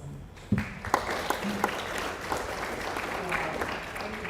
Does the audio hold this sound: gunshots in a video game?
no